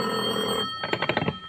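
Old radio-drama telephone bell, a close, bright mechanical ring heard alone, a sustained ring followed by a rapid series of clattering bell strikes.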